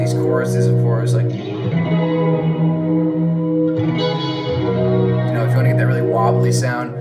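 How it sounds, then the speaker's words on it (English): A sustained, harmonic electric guitar tone with a wavering, shimmering chorus plugin effect and a reverb tail, played loud and close with a chord change midway. "You can get really crazy with these choruses, of course,"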